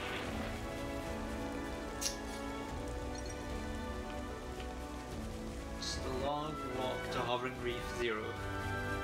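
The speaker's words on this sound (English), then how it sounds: "Seems like the rain's coming." Rain patters steadily across an outdoor scene in Xenoblade Chronicles 3, a soft continuous hiss of drops with game music and a voice talking over it.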